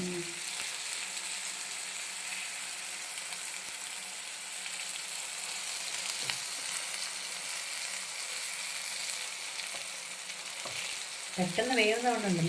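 Eggplant (brinjal) slices fry in a pan with a steady, even sizzle. Near the end a brief scrape or stir sound stands out.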